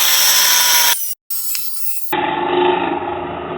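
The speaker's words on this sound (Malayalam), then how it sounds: "അപ്പോൾ ഈ പട്ടയിനെ നമുക്ക് ആവശ്യമനുസരിച്ച് മുറിച്ചെടുക്കാം." A power tool cutting through a thick metal strip gives a loud, harsh grinding whine that cuts out for a moment, resumes, then continues at a lower, rougher pitch.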